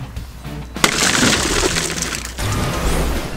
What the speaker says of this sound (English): simply place the device firmly against the window and press until you hear a click and the window breaks